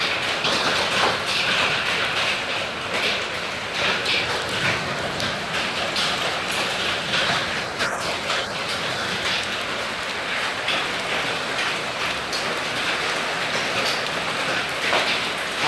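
Heavy hail hammers down in Kon Tum in the Central Highlands, stones as big as corn kernels, making a dense, loud, continuous clatter and hiss that stays steady throughout with no voices.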